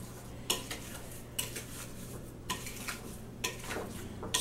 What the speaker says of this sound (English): Stir it up until all the peaches are covered up.